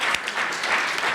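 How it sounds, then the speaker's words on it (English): Audience applause at an economic forecast panel, a brief dense burst of many hands clapping with no voices. "Round of applause right there, you guys"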